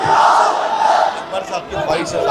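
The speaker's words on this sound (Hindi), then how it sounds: "तो मेरे साथ नारा लगाइए, नारे तकबीर, नारे तकबीर।" A large crowd at a political rally in Amravati, Maharashtra, roars a slogan back in unison. The loud massed shout rises and falls, then swells again.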